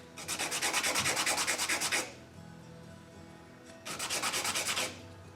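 Wood trim being sanded with an 80-grit sandpaper block, two bursts of fast rhythmic back-and-forth rasping strokes, close and loud, separated by a quiet pause.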